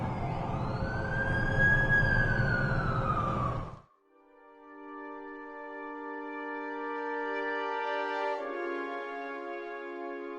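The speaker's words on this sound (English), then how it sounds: "That's the ambulance I called." A wailing ambulance siren in the Amazing Spider-Man 2 video game, a rising and falling whoop that cuts off sharply, then gives way to a steady tonal electronic drone.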